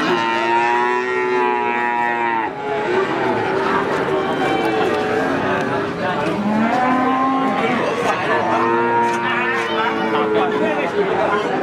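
Cattle moo repeatedly at a busy livestock market in Margorejo, Pati, with long drawn-out calls overlapping one another amid a murmur of people talking nearby.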